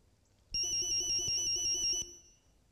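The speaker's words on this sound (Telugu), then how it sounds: "ఇదేంటి నా సెల్ కూడా రింగ్ అవుతుంది? ఎక్కడ మోగుతుంది?" A cell phone ringtone sounds once, a bright electronic melody lasting about a second and a half, close and loud, beginning and ending abruptly in an otherwise quiet room.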